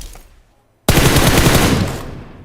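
Loud, dense burst of automatic gunfire in a first-person shooter video game, starting abruptly after near silence and rattling continuously for about a second and a half before tapering.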